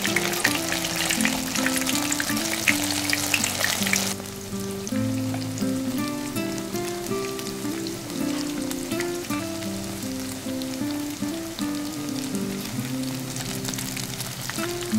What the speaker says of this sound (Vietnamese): Khi dầu vừa nóng á, thì mình cho sườn vào chiên.